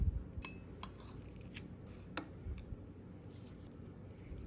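Knife cutting into an air-crisped stuffed mushroom from a Ninja Foodi, giving a few sharp, close crisp snips and clicks over a quiet background, with no talking.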